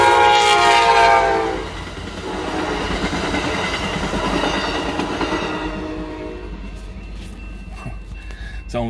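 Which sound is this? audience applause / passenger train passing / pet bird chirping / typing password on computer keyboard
passenger train passing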